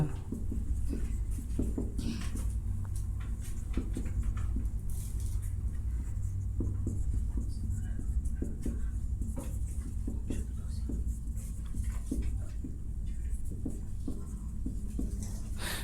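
Pen or chalk scratching steadily while a tenth-class maths solution is written out by hand, a continuous close scraping patter with short strokes, under occasional quiet speech.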